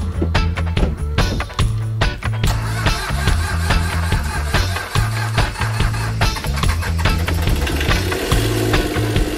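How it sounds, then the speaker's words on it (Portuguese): A sailboat's auxiliary engine runs steadily at idle, a low rhythmic thrumming close by with a repeating knock-like pulse, mixed with clattering mechanical noise throughout. "a gente precisa ter esse motor aí para de repente mudar de ancoragem"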